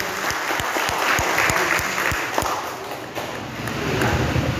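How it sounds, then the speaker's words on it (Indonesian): Audience at a corporate seminar in Indonesia applauds PT BES, a steady wash of clapping with a few loud, close claps standing out in a rough rhythm. "Tepuk tangan untuk PT BES"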